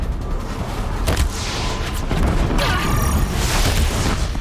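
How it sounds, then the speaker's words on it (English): Fire blast attack in Horizon Zero Dawn, sounding as a dense, loud roaring burst with booming low rumble and crackling hiss that swells twice across a few seconds. "I think I'll blast him with fire."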